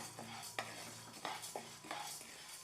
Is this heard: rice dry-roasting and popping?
yes